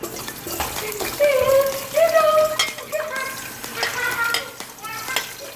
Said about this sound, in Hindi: सबसे पहले हम ये प्याज को सौते करेंगे।